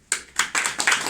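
At a small poetry gathering, a few sharp, separate hand claps ring out one after another in a quick, uneven rhythm, close and distinct, as if applause is just starting.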